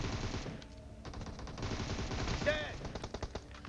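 Gunfire in PUBG Mobile sounds as rapid bursts of machine-gun shots, mid-distance and fairly loud, mixed with game effects and faint voice chatter.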